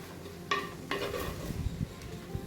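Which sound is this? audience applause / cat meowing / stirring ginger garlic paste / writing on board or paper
stirring ginger garlic paste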